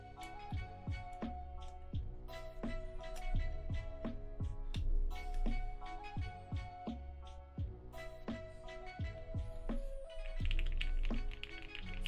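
Rapid typing on a custom-built mechanical computer keyboard, a dense run of crisp keystrokes clacking in irregular bursts at close range, with no talk.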